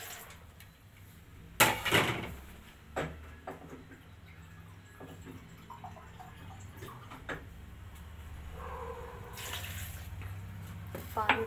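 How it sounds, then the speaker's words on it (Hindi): Water poured into a blender jar holding two bitter gourds and a tomato, a short splashing gush amid light kitchen clatter and faint ticks, fairly close and moderately loud. "पानी डाल दी हूँ मैं।"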